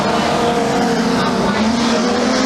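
Production sedan race cars on a circuit, a loud, steady engine drone with a shifting pitch as cars run close together, while a race commentator talks over it.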